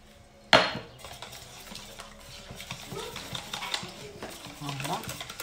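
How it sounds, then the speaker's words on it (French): A utensil stirs batter in a bowl, repeated scraping and clinking strokes against the dish after a sharp initial knock, close and moderately loud. "On mélange bien."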